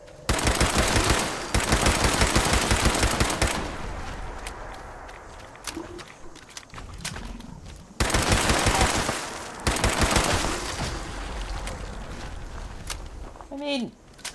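A Berserker Explosive pipe rifle in Fallout 76 fires in loud, rapid bursts of shots that stop and start in long volleys, with quieter footsteps and game noise between them.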